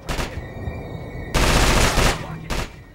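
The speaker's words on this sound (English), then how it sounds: "There's another SMG going off." Automatic SMG gunfire in the stealth game Manhunt, loud sustained bursts of rapid fire with a short earlier burst and a brief final volley, against a tonal background ambience.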